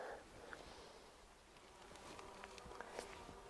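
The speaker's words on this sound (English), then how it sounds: "Just checking if I can film the bees while they're very busy with the borage here." Bees hum softly around borage flowers in a summer garden, a faint continuous buzz with occasional closer passes and light outdoor rustling.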